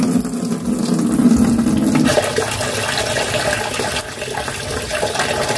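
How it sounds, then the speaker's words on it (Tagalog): Tap water pouring steadily into a plastic basin being filled for soaking stained clothes with Seaways stain remover, a continuous splashing rush that deepens in tone partway through. "lagyan nyo na ng tubig."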